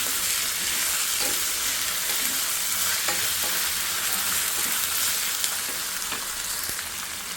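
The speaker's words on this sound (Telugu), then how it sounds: "ఇప్పుడు ఇది ఫ్రై చేస్తాం." Chicken with ginger garlic paste and tomato frying in a pan, a steady close sizzle and hiss with occasional scraping stirs, continuous and without talk.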